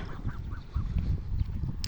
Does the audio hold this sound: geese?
yes